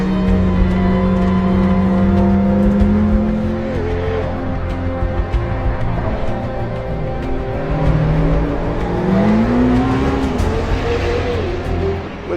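A Gordon Murray T.50 accelerating on a country road, its engine climbing in pitch through the gears, dropping and rising again with shifts, loud and sustained, with no voices.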